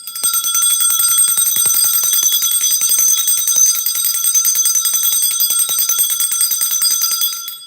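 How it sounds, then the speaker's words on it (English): A small bell rings in a rapid, continuous shimmering trill, loud and close, sustaining bright metallic tones for several seconds with no voices. "They cannot stand the sound of a bell."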